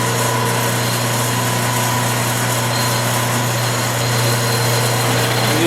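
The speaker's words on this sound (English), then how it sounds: "I go back and I mill a flat on it." A 3/8 end mill cuts a flat on a hammer, giving a steady, even machine hum with a constant low drone that runs unbroken and fairly loud, with no talking.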